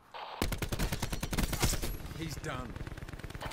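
Rapid automatic gunfire erupts in a Call of Duty: Black Ops 4 multiplayer match, loud sustained bursts that trail off into scattered shots, with a player talking briefly over the shooting.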